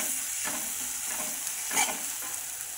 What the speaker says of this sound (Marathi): हिरवी मिरची लसूण जाडसर केलेला आहे मी। हे असं 1 मिनिटासाठी हलवायचं।